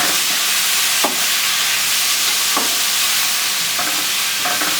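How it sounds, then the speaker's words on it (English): Mixed vegetables with cabbage and broccoli hiss loudly in a hot pan in a Caribbean vegetarian stir fry, with a few soft stirring scrapes rising above the steady sizzle and no voices. "Give it a nice little stir."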